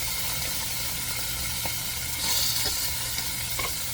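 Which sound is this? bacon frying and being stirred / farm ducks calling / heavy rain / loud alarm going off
bacon frying and being stirred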